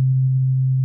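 A clean FM synthesizer bass patch holds one steady, pure low tone with no distortion, loud and alone, sustaining evenly for just under a second.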